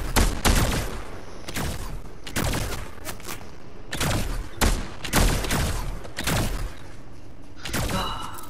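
Gunfire in the video game Fortnite plays on a PS4 Slim, with repeated loud shots and bursts of fire at irregular intervals, several close and sharp, others following in quick clusters.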